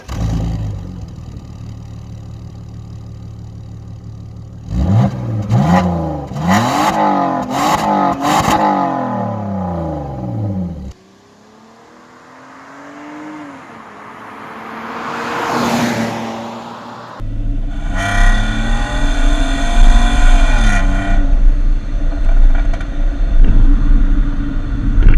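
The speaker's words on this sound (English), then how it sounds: "the sound of the straight 6-cylinder petrol engine." A BMW E46 3 Series straight-six petrol engine, the M54, revs hard several times in quick bursts, drops to a low idle, swells up again, then settles into a steady loud rumble.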